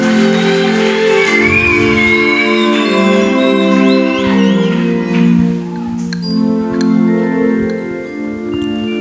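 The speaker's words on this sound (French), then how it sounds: "Applaudissez pour celui qui monte." A lively audience at a children's activities event cheers as a person comes up, with loud whoops, shouts and whistles rising over a steady tonal backdrop that continues throughout.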